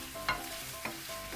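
Tomatoes and egg stir-fried in a pan, a steady soft sizzle broken by a few scraping stirs of the spatula, close and fairly quiet with no talking.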